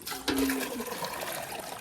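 Water splashing and pouring as a pot is filled from a well with a rope, a short close gush that settles into a trickling flow, no talking.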